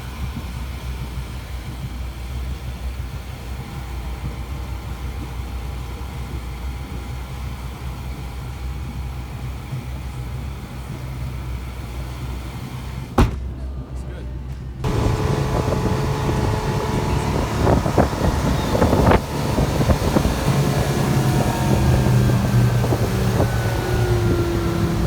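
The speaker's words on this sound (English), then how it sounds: "So first I'm going to start the engine." A boat engine runs steadily with wind buffeting the microphone, then after a brief click and pause the engine note rises louder and rougher, a continuous close motor drone.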